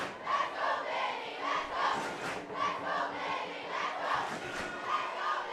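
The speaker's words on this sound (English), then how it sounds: "That's the Castleblayney fans that you can hear cheering." Castleblayney supporters cheer and roar from the stands late in a schools senior football final, a loud, sustained crowd noise that swells and dips in repeated waves with no clear speech.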